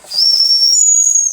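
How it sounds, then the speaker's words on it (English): A Wilesco D455 model steam engine's whistle blows one steady, shrill, close note lasting just over a second, with a faint hiss of steam around it and the pitch stepping up slightly near the end. "Let's try the whistle."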